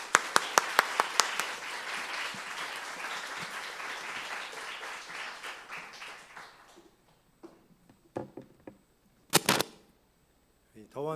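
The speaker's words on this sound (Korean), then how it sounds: "우리 따뜻한 마음을 담아 박수로 환영하겠습니다" Church congregation applauding in welcome for a visiting pastor at a service: dense, loud clapping for several seconds that thins into scattered claps and fades, followed by a few isolated claps near the end.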